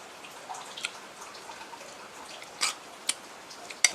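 Rain falls outside during a meal, a faint, soft hiss dotted with a few scattered, crisp drips landing nearby over a few seconds.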